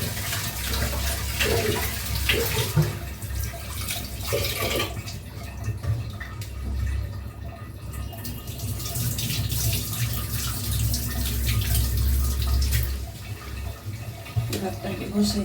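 Tap water runs steadily while rice is washed in a kitchen, with splashing and sloshing from handling the grains, a voice speaking over it at times.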